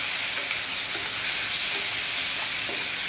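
Tomatoes dropped into a hot pan of fried red onions give a loud, even, continuous sizzle, close and dense, with no voices.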